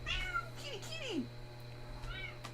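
A house cat gives several clear, close meows with rising and falling pitch, one drawn-out and descending, then another shorter call near the end, over a low steady hum.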